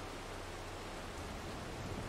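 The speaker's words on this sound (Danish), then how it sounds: "Nå, så kom regnen." Rain falling in the video game Farming Simulator 22, heard as a steady, faint, even hiss of downpour that holds unchanged throughout, with no voices.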